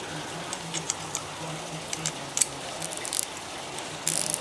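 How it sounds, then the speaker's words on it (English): Faint, close clicks of a 5mm Allen key tightening a light bracket on a Brompton folding bicycle, a few irregular small ticks and ratcheting taps over quiet background. "Your 5mm Allen key to do up my light adapter, or holder on this side."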